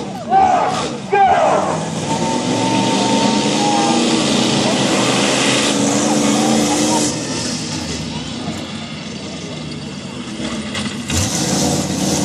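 Monster trucks drag racing at a fire engine rally in Preston Park: loud, continuous engine roar with revving surges and crowd noise, the din steady throughout with a brief burst near the start and again near the end.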